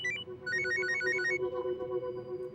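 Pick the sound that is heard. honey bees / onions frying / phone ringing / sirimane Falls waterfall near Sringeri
phone ringing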